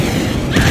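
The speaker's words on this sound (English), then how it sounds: "We're gonna shoot this rocket." A cartoon rocket launch, a loud continuous booming roar that swells slightly toward its end, heard briefly and up close.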